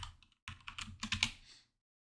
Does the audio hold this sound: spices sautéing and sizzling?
no